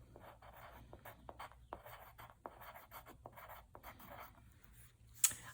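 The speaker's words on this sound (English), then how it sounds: "Let me go ahead and erase that." Chalk or marker strokes and erasing on a classroom board, a quiet run of short scratchy swipes and taps with a sharper knock near the end, no talking.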